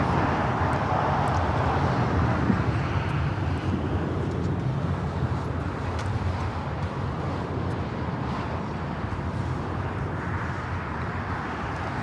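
A JetBlue Airbus A321 taking off at LAX for Fort Lauderdale, a broad, steady jet roar heard from a distance, holding constant and slowly easing.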